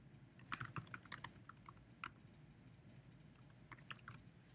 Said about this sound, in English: I will type myocardial infarction